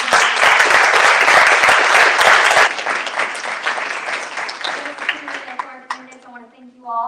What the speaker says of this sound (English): Let's give a round of applause to President Noblett